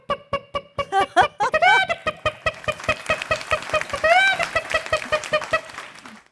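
A mimicry artist on a comedy stage voices a hen, producing a quick run of short rhythmic clucks that build into squawking calls, close and clear.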